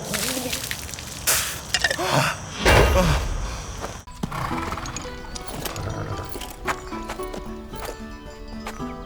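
A horse whinnies and hooves clatter amid a busy mix of scuffles and thumps, followed by a stretch of varied bright sound effects, all fairly loud.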